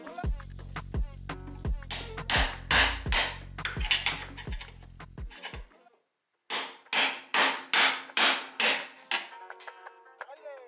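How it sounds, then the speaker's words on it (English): A hammer beats an old chisel wedged under the flat of a bolt during an upper control arm install, giving a loud run of sharp metallic strikes in two bursts, with ringing and a short pause between them. "I just put it right up under the flat part of the bolt and I just beat it a couple times with a hammer"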